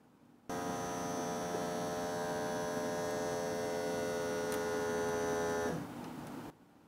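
Foot massager machine running alone: a steady, moderately loud electric motor hum with a buzzing tone, holding constant for several seconds before cutting off and leaving a softer background hum.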